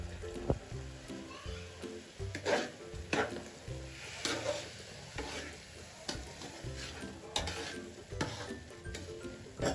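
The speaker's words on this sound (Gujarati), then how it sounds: "ચાસણી થઈ ગઈ છે તૈયાર હવે આપણે રવામાં એડ કરી દઈએ આ રીતે" Warm sugar syrup poured into semolina for rava laddu and stirred with a spoon, giving soft wet scraping and sizzling-like clatter in an uneven rhythm, close and moderately loud with no talking.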